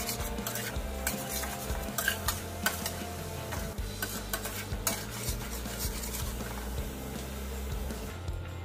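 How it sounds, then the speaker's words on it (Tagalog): Scrambled egg with onions and celery is stirred in a pan, with repeated scraping clinks of a utensil against the metal over a faint sizzle, close and steady. "luto na yung ating scrambled egg na nilagyan natin ng onions at saka celery"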